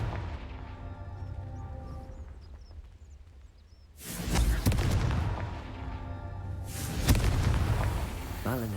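The Confringo blasting spell in Hogwarts Legacy fires off with two loud, booming blasts, each with a whooshing burst and a rumbling tail, after a quieter stretch of ambient game sound.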